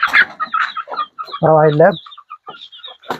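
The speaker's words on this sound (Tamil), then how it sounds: "சொன்ன மாதிரி ஒரு 10 கோழி கூட நிற்கிது." Chickens in a coop in a Vanni forest homestead cluck and squawk close by in short repeated calls, with one louder drawn-out cackle in the middle, while someone speaks briefly.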